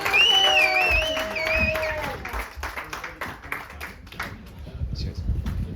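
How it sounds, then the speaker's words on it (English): Scattered clapping from a comedy show audience on the Gold Coast follows a brief burst of high whistles and chatter, the applause thinning and tapering off. "Big round of applause"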